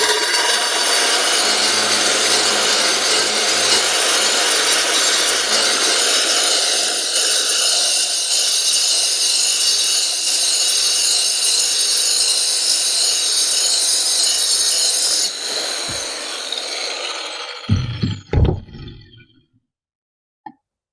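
A lawn mower blade being sharpened with a blade sharpener, a loud continuous grinding and rasping that runs steadily, then drops in level and stops with a few final scraping bursts.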